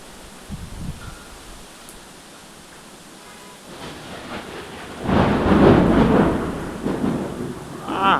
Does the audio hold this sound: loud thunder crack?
yes